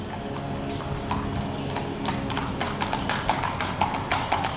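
Horse hooves clip-clopping on the ground as the horse picks up into a gallop, a quickening rhythmic series of distinct thuds close by.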